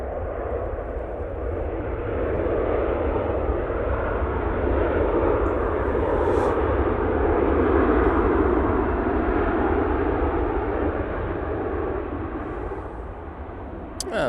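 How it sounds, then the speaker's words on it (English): A Ryanair airliner arriving from Barcelona touches down at Manchester Airport, giving a sustained, fairly loud broadband roar that swells mid-way and eases toward the end, with no one speaking. "Just had a Ryanair touchdown."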